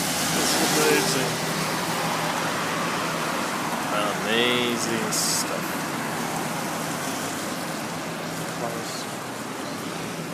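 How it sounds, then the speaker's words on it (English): Steady rain hisses continuously in Doha, with traffic swishing past and a voice speaking briefly over it. "Rain in the desert."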